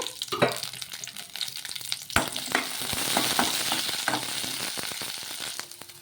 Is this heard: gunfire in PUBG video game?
no